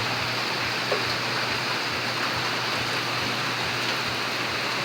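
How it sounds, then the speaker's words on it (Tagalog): Steady rain hissing continuously, loud and close, a dense even wash of drops with no voices. "Umuulan na."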